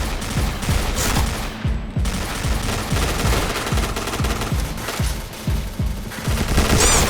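HK416 rifle fire in the online shooter Point Blank: sustained rapid automatic bursts, loud and close, with steady repeating shots running almost the whole time and only a brief break.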